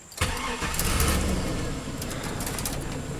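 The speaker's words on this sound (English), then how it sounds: "I'm starting my truck just because I don't want to kill my battery" A pickup truck engine cranks and fires up close, then settles into a steady idle, with faint birdsong in the background.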